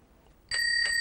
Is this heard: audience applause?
no